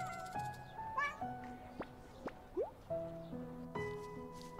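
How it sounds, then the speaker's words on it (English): A kitten in an animated short lets out a few brief, high meows over soft sustained musical tones, with one quick rising cry partway through. "Oh, what a lovely kitten."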